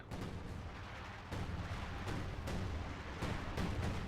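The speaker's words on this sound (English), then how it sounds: "Let's see an artillery barrage getting called in" An artillery barrage in Company of Heroes 2 pounds away as a dense, continuous roar of blasts, with several sharper booming impacts standing out at irregular intervals.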